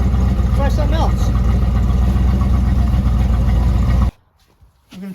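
A car engine idles through a test exhaust muffler, with a steady, loud, low rumble that carries on for about four seconds before being switched off, leaving near silence and faint sounds.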